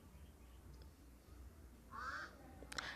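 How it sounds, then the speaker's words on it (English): A faint, distant bird gives a short honking squawk outdoors, followed by a brief sharp call against quiet background hiss. "Aki, there's a bird."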